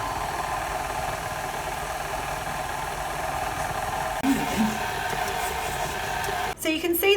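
A stand mixer with a paddle beating gingerbread dough on its lowest speed: a steady, close motor hum that runs evenly, with a few brief knocks and bumps toward the end and some talk around it.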